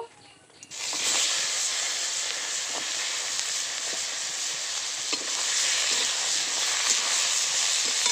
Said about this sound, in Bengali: এই তেলেই এবার পটলগুলো ভেজে নেব